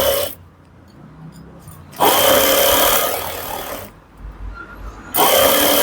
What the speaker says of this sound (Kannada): ಎಡ್ಜಲ್ಲಿ ಸ್ಟಿಚ್ ಹಾಕೋಬೇಕು